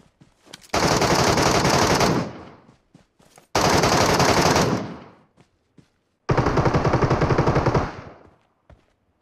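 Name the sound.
gunfire in video game PUBG Metro Royale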